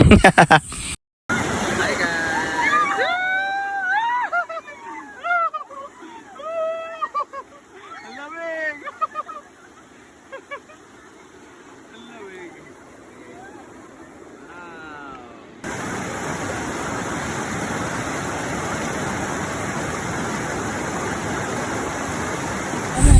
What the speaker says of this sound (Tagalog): napakasarap naman pakinggan yung tunog ng kalikasan lalo na pag maririnig mo yung ganyang tubig